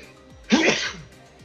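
A single sharp human sneeze, close and loud, bursting out briefly against a quiet background with faint voices around it.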